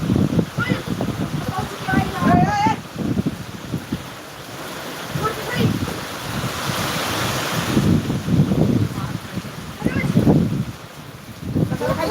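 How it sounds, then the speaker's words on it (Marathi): Strong wind gusts roar through rain outdoors, a loud buffeting rush that swells and fades in waves, with someone talking over it at times. "वारा सुटला आहे"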